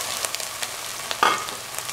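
Ginger-garlic paste sautéing in a pan over a medium flame, a steady soft sizzle that runs throughout, broken by a brief louder scrape-and-hiss of stirring near the end.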